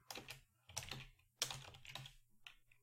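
Soft clusters of keystrokes on a computer keyboard come in short bursts with brief gaps, faint and close.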